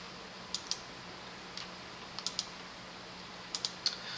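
A computer mouse clicks while working in Cinema 4D software, giving sharp, faint, close ticks in small clusters of two or three, separated by quiet pauses over a low background hum.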